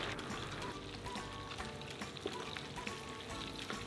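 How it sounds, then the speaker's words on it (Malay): Steady, close sizzling and crackling of mozzarella bites frying in hot oil, continuous with small pops and no talking. "Panaskan minyak dan bolehlah goreng mozabite tadi"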